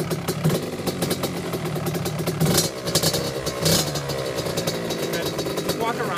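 A KTM 65 SX dirt bike runs on a cold start with the choke in, its small two-stroke engine clattering and revving unevenly up close, with brief sharp bursts of throttle.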